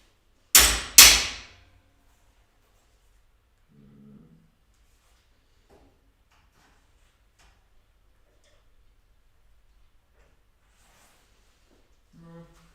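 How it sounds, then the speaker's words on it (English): Two sharp hammer whacks strike an object in quick succession near the start, loud and close, followed by faint scattered taps and soft handling noises in an otherwise quiet room. "I think I'm gonna whack it a little bit with the hammer."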